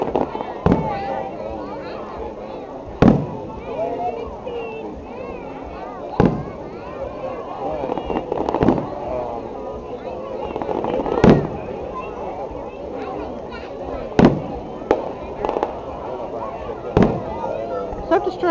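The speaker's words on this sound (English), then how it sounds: "Stop distracting us, other fireworks." Fireworks finale at a town display: repeated booming bursts and crackles, some far and some nearer, popping every few seconds over a steady rumble, with spectators chatting throughout.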